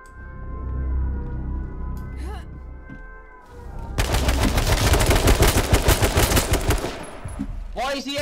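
An AK rifle fires in a video game in a rapid, loud automatic burst lasting several seconds, preceded by quieter game noise. A voice speaks briefly near the end.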